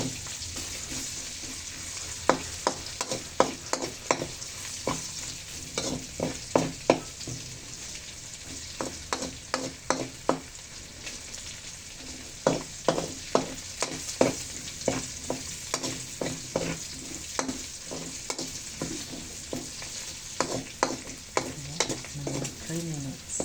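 Pork sizzles in a pan while being stirred for pancit bihon, a soft steady fry hiss broken by repeated scraping strokes of the utensil at an uneven rhythm, close and fairly quiet.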